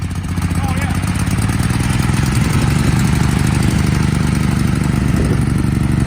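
An old garden tractor engine with a hydrostatic drive, running after long storage with the choke on, a loud steady close chugging drone that swells slightly as it revs, while someone talks over it.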